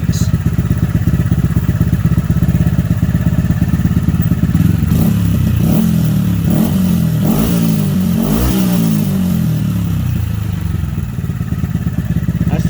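A Honda Grom 125 motorcycle engine idles steadily during idle speed and air screw adjustment, with several throttle blips rising and falling in the middle. The engine is loud and close throughout.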